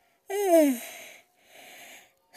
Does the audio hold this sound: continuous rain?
no